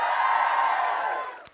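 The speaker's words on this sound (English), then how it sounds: "So give us a cheer if you listen to The Guilty Feminist." A studio audience at a political TV show cheers and whoops in a loud, brief burst that fades out quickly.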